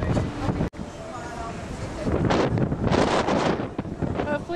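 Strong wind roars across the back deck of a cruise ship in Alaska, buffeting the microphone in heavy, uneven gusts, with a voice talking underneath.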